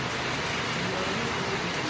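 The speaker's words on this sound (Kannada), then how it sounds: "ಇಲ್ಲಿ ಬಟ್ ಮಳೆ ಬರ್ತಿದೆ ನೋಡಿ" Steady rain falls in a dense, even hiss, close by and continuous with no voices.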